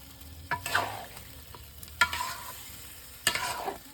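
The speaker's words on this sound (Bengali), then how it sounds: "এবার নেড়ে দেবো।" A spoon stirs chicken and pumpkin curry in a hot pan in three scraping strokes, each followed by a sizzle of frying, close and without any talking.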